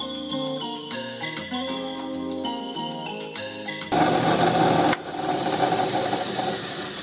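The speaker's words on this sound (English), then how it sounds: "I've got to mill out this little flat place for that rear lug to sit in." A milling machine cutting a shallow flat for the rear lug in a Winchester Model 100 rifle stock during a restoration, a harsh broadband grinding that starts abruptly partway through, pauses briefly, then resumes, after a stretch of melodic background music.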